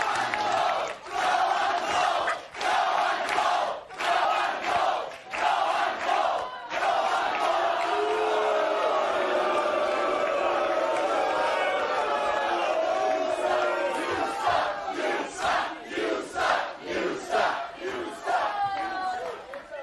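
A talk show studio audience shouts and jeers loudly and continuously, a dense roaring crowd with chanting and whooping that swells and fades over about twenty seconds.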